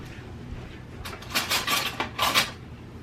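Metal cutlery clinks and rattles while someone rummages for a fork in a kitchen. The clatter comes in a few quick, close bursts over quiet room tone.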